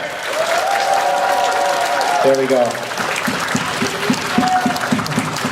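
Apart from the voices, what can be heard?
convention crowd applause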